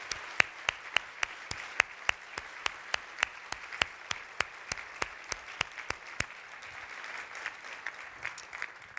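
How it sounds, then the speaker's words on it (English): A conference audience applauds steadily for several seconds, dense clapping with a few sharp individual claps standing out near the front. "So please give them a warm, hearty round of applause."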